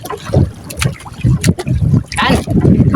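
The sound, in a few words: paddling a small boat against the wind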